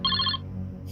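A mobile phone rings with an incoming call: a brief, bright electronic ringtone burst that cuts off quickly, alone and close by.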